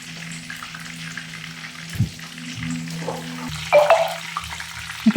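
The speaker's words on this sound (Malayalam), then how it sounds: "അപ്പോൾ കാട ഫ്രൈ" Quail frying in an iron pan, a steady close sizzle running throughout with occasional stirring clatter and a few sharper pops near the end.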